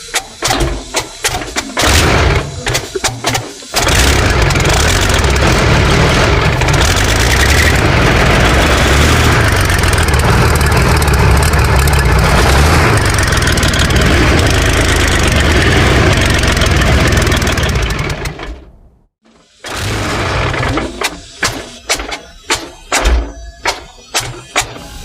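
Diesel engine of a T62 tank thunks and sputters, then fires on a first test start after a rebuild. It roars loudly and steadily for about fifteen seconds, cuts out abruptly, then coughs through uneven restarts.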